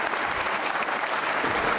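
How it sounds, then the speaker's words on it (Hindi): Brief burst of dense audience applause at an NCC cadets' Independence Day quiz show, steady and full with no gaps. "तालियां जोरों से बजाइए आपके लिए, जोरदार तरीके से।"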